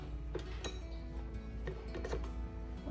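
A mixing bowl is lifted off a stand mixer and handled while baking burger buns, giving a few scattered metallic clinks and knocks over a steady low kitchen hum, with no talking.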